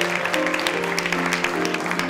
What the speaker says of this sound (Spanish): les recibimos con un fuerte aplauso